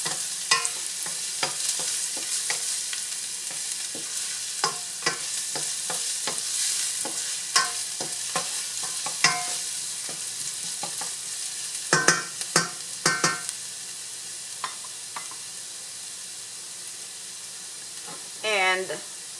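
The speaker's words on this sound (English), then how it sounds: "adding our garlic to the warm oil, and we are going to saute this lightly until it starts to turn golden brown." Garlic sautés lightly in warm oil for pork and vegetable pansit, a soft steady sizzle under frequent clinks and scrapes of a utensil stirring the pan, with a louder scraping burst near the end.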